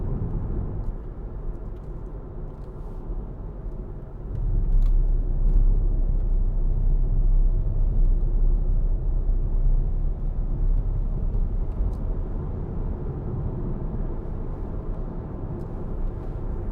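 A 2013 Hyundai ix35 2.0 CRDi diesel 4WD SUV accelerates on the road, heard from inside as a low droning engine rumble that swells noticeably partway through and then holds steady under road noise.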